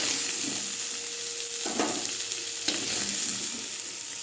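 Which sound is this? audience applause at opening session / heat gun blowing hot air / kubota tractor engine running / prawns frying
prawns frying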